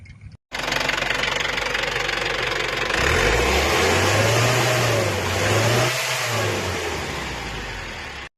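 A vehicle engine, freshly fitted with a new radiator after overheating trouble, starts and runs close by, settling into a steady idle with a brief rise in revs partway through.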